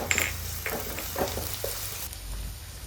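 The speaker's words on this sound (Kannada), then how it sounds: "1 ಟೀ ಸ್ಪೂನ್ ಶುಂಠಿ ಬೆಳ್ಳುಳ್ಳಿ ಪೇಸ್ಟ್ ಹಾಕಿ ಹಸಿ ವಾಸನೆ ಹೋಗುವ ತನಕ ಒಳ್ಳೆ ಫ್ರೈ ಮಾಡ್ತೀನಿ" Ginger garlic paste with curry leaves and green chillies sizzles in a pan, a steady close frying hiss punctuated by a few short spoon taps and stirs.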